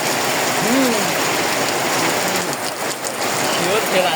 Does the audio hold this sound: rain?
yes